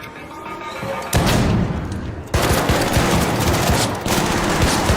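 Turret in a video game firing at the player: loud, sustained rapid bursts of automatic fire with heavy booming impacts, growing louder partway through and continuing throughout.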